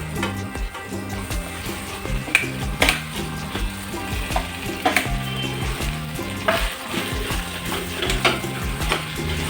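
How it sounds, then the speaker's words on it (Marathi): Mashed potato is stirred into spiced masala frying in oil for vada pav, with a steady close sizzle broken by rhythmic scraping and clinking of a spoon against the pan. "आता मसाला चांगला परतवला गेला तेलामध्ये आता बटाटा आपण याच्यात टाकून घेऊ"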